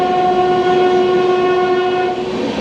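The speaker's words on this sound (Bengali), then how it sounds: "মোটমাট 3 ঘন্টা 42 মিনিট ট্রেন এখন ননস্টপ চলবে।" The Darjeeling Mail passenger train running nonstop at night, with a loud sustained steady horn tone over a constant rumbling roar of the moving carriages, fading slightly at the end.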